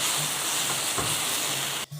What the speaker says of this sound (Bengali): আর এদিকে কড়াইয়ের মধ্যে সর্ষের তেল গরম হয়ে গেছে, তেলটার মধ্যে ঢ্যাঁড়সটা দিয়ে একটু ভালো করে নেড়ে নেব।